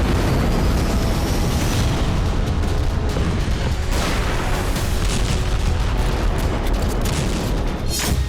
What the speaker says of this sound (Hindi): ईरान पर इजरायल का मिसाइल आघात